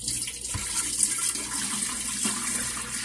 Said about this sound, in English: And we'll pour it in the reservoir.